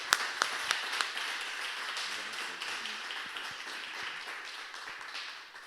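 Church congregation clapping in praise, a few sharp claps at the start swelling into steady, sustained applause that fills the room, moderately distant and without talk.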